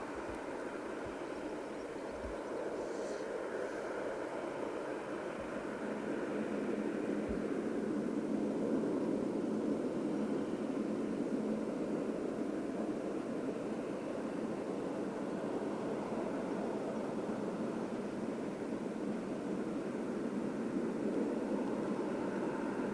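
At Heathrow Airport, an airliner's jet engines roar steadily and at a distance through a long takeoff run, a broad rushing drone that swells slightly midway and holds with no voices.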